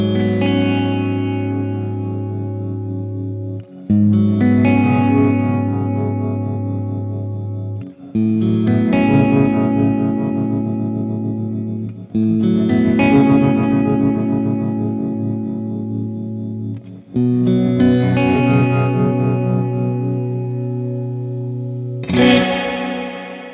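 Strymon BlueSky reverb pedal with shimmer in spring mode, adding an octave-down layer and tremolo. Five sustained guitar chords swell and decay one after another, each thick and wavering, with no voices over them.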